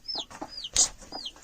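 A hen sitting on her eggs gives a few short, close clucks and soft throaty calls, spaced irregularly with one louder squawk near the middle, no talking.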